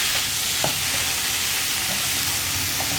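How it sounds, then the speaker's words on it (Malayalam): Ginger garlic paste and tomatoes frying for a cauliflower masala, stirred in the pot, with a constant loud hissing sizzle and a few faint scrapes, without talk. "ജിഞ്ചർ ഗാർലിക് പേസ്റ്റിൻ്റെ കൂടെ തന്നെ ഞാൻ തക്കാളിയും കൂടി ചേർക്കുകയാണ്. ഇനി ഇതെല്ലാം ചേർത്ത് നന്നായിട്ടൊന്ന് ഇളക്കി കൊടുക്കുക."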